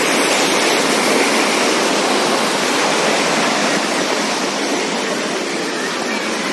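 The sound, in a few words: water splashing from a Mughal garden fountain, Achabal, Kashmir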